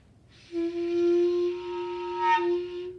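A clarinet sounds one sustained, steady tone for about two and a half seconds, the kind of unintended high note produced by accidentally pressing a key, played alone and clearly.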